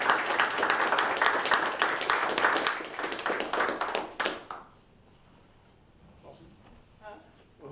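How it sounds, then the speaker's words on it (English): A crowd at a talk about 1920s xylophone players gives a full round of applause. The clapping is dense and rhythmic, then thins and fades away after about four seconds, leaving a quiet room with faint voices. "how about a real sincere round of applause for our"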